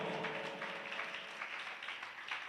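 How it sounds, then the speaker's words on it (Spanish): A church congregation claps during a Spanish-language sermon, a dense, distant wash of many hands blending into steady applause, fairly quiet and with no talk over it. "Denle fuerte ese aplauso al Señor."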